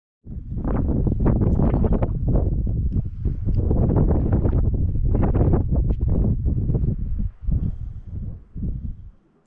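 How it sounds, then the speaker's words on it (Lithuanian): Strong mountain wind on a hiking trail in Madeira buffets the microphone in loud, continuous roaring gusts that ease briefly near the end. "taip gaivus vėjelis pučia"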